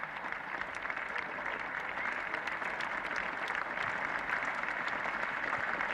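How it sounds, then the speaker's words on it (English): A very big crowd at a 1972 Australia versus England Test cricket match applauds Greg Chappell reaching his fifty, a steady, sustained clapping from many hands at a distance, continuous and even throughout. "So applause for this very big and generous crowd."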